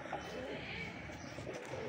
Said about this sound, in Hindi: लाल गर्दन का कबूतर है।